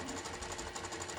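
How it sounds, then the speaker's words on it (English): A sewing machine stitching a quilt with black thread, a fast, steady mechanical whir of rapid needle strokes, close and fairly quiet, in a short burst. "I'm sewing it together with black thread"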